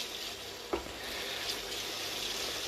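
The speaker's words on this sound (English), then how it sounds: "Those onions are sweating beautifully." Onions sweat in a frying pan for a sausage and bacon stuffing log, giving a steady, soft sizzle throughout with one brief stir or clink near the start and no talking.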